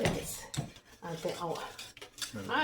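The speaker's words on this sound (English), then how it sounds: "you just gotta keep stirring and stirring and stirring" Beer cheese soup stirred in a pot, a spoon clinking and scraping against the metal in repeated strokes while someone talks over it close by.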